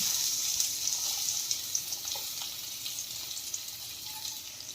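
Thinly sliced onions frying in about two tablespoons of oil in a pan for egg curry, a steady soft hiss and sizzle with faint crackles, quiet and continuous.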